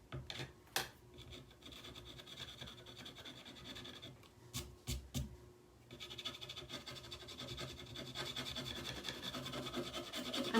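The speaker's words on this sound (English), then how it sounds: "I'm kind of scraping off where the blue, majority of the blue is, and I'll add a little bit of that paint back" Blue paint being scraped off a thrifted item, quiet close rubbing and rasping strokes in an irregular rhythm with a few sharp knocks.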